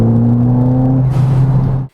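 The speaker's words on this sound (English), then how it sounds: "I added an aftermarket blow-off valve because I'm a child and I like cool whooshing sounds when I clutch in." Ford Fiesta ST fitted with an aftermarket blow-off valve, the engine droning steadily close by for about two seconds before a brief breathy rush as the throttle closes, then cutting off abruptly.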